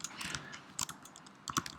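A web address is typed on a computer keyboard in quick, faint clusters of light key clicks, with brief pauses between the bursts.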